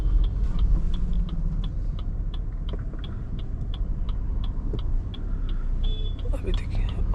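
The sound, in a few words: car engine as accelerator is pressed, car moving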